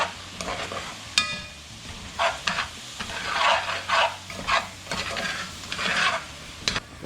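A pan being deglazed with Trinity vegetables and roux for shrimp and grits: repeated stirring scrapes and sizzling bursts roughly every second, close and moderately loud, with a light utensil clink near the start and no talking.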